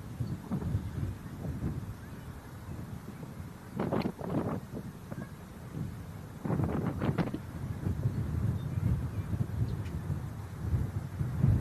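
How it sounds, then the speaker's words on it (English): Wind buffets outdoor microphones at a plane-spotting site, a steady low rumble with a few louder gusts and scattered thumps, with no talking. "it's getting a lot more windy now, as you can probably hear on the mics."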